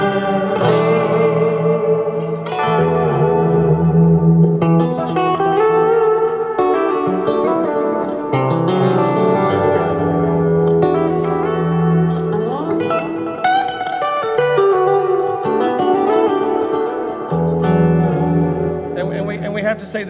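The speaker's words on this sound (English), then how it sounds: "I like a couple of drives in front of my clean amp sound, and then a couple of delays." Electric guitar, a Fender Stratocaster played through overdrive and delay pedals into a clean amp, rings out in sustained chords and lead lines. Echo trails and reverb stay loud and continuous for the full length, with no pauses between phrases.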